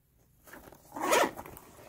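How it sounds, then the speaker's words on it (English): A zipper on the pocket of a Kate Spade Margaux bag is pulled once in a quick, soft rasp that swells briefly and fades, close and alone. "zipper pocket"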